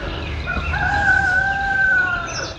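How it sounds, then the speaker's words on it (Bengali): A rooster crows once in a long, drawn-out call beside a lake in Mirik, Darjeeling, loud and near, with steady outdoor ambience underneath and no talking. "মোরগের ডাক।"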